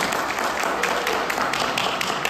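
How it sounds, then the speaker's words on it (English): A crowd applauds at a formal gathering honoring an association chairman and president, a dense, steady clatter of many hands lasting a couple of seconds at moderate volume. "Can we have a round of applause for everyone?"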